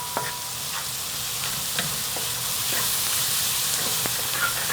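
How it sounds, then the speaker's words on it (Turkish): Onions sizzle steadily in hot oil in a frying pan, a dense close crackle with occasional sharper pops and the scrape of stirring throughout, no voices. "Şimdi soğanlarımı yağın içine alıyorum."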